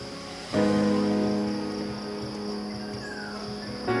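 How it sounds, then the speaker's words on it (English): Crickets chirp in a steady high-pitched drone on a green hillside burial ground at Bukit Cina, faint and continuous, with a brief tonal hum partway through. "Sound of chirping birds, creaking sound of crickets, and fluttering sound of leaves, which relieve stress."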